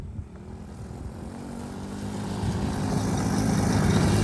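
A Tao Tao 110cc motorbike engine drones steadily and builds louder, its low rumble rising toward full throttle as the rider floors it for a wheelie.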